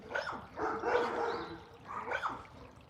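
Dogs barking outdoors by a pond, a couple of bursts of barks and yips at moderate distance, with no talking during the sound.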